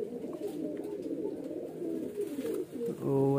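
Highflyer pigeons coo continuously in a low, rolling murmur, close and steady throughout, with a brief harmonic tone at the end.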